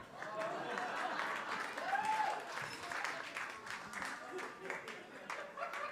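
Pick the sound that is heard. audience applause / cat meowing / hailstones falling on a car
audience applause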